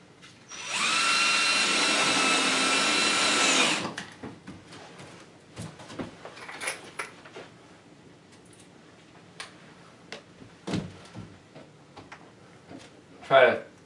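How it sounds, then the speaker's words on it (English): A power drill drives screws into a faux used-brick panel during installation, whirring loudly and steadily for about three seconds. Afterward come scattered taps and handling knocks, with a person talking. "now we can screw these in. We can screw this in permanently."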